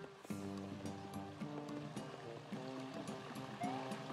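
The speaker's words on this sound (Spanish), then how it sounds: "Voy a meterme en la catarata." Waterfall in the Paper Mario: Color Splash video game: a soft steady rush of water under quiet, chiming game music with repeating melodic notes, faint throughout.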